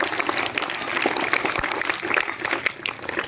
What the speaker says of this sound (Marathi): जोरदार टाळ्या सगळ्यांसाठी.